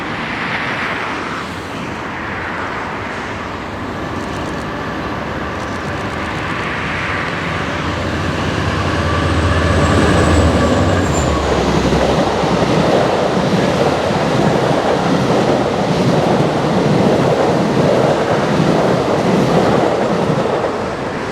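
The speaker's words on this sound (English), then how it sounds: "the hottest train on the South Florida Rail Corridor, CSX Train P001, the Office Car Special." CSX train P001, the Office Car Special, passes on the South Florida Rail Corridor in Miami, a rumble that swells and stays heavy with rushing wheel noise and faint rail clatter, no talk.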